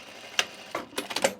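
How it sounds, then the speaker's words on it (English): A sewing machine stitching across the end of a travel bag makes a brief run of quick, close mechanical clicks and stitch thumps, uneven in rhythm, with no voices. "I'm going to sew across the end here."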